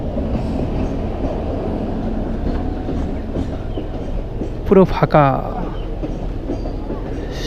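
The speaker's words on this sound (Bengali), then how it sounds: "এই হচ্ছে ডেমো ট্রেন যাচ্ছে এটা লোকাল ট্রেন" A DEMU local train rolls past a level crossing near Sevoke on the way out of Siliguri, a steady heavy rumble under voices, with a sharp metallic squeal rising briefly near the end.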